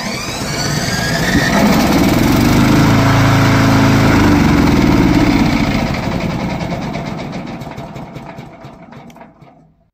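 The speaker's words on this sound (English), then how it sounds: "Turn on the mower." The small gasoline engine of a Vigorun Tech VTLM800 remote-controlled crawler brush mower revs up and runs steadily with a buzzing drone, then gradually fades out as it moves away or winds down.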